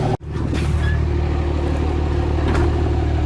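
Diesel engine with its grid heater unplugged, idling after about five minutes of running, a loud, steady low rumble close by with a brief dip at the start.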